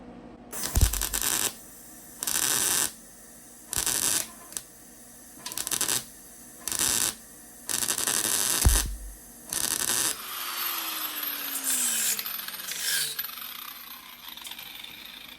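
A grinder working off spot welds on a steel panel of a 1972 VW Super Beetle, loud rasping bursts in short repeated passes close up, followed by the tool spinning down.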